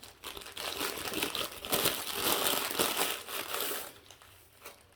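Shredded paper filler is piled into a gift basket, crinkling and rustling steadily at close range for several seconds, with no talking.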